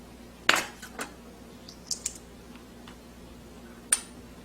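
A knife slicing Cheongyang chili peppers in half on a cutting board for gimbap, heard as a few sharp, close taps and clicks spaced apart over a quiet kitchen background, with no talking.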